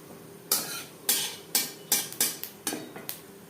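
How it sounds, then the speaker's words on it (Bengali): Whole cumin seeds fry in refined oil in a pan, giving a string of sharp, close sizzling bursts that start suddenly and fade quickly, roughly eight in quick succession. "দিয়ে দিলাম দু চামচ রিফাইন্ড অয়েল আর দিয়ে দেবো হাফ চামচ গোটা জিরে"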